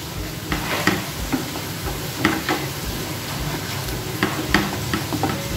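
Masala with cumin powder stirred and frying in a pan, a steady sizzle broken by repeated scraping stirs of the spoon, close and fairly loud, with no talking.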